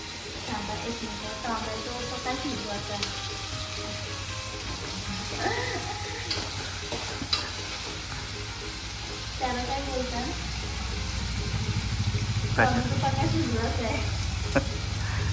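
Tomatoes cooking in a pan give a continuous sizzling, bubbling fry with occasional stirring scrapes, while people talk over it throughout.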